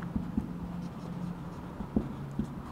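Chalk taps and scrapes across a board during a biology lesson, a few distinct close knocks and short strokes, quiet, with a low hum underneath.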